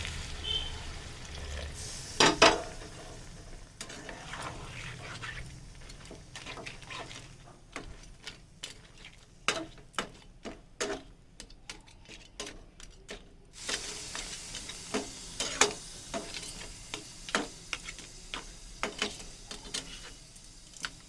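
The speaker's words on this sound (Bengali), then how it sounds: "এবার দিয়ে দেবো এতে অল্প করে জল।" Spiced crab pickle sizzles and fries in a pan as a little water goes in, with a sharp hiss followed by stirring scrapes and crackling bursts at close range.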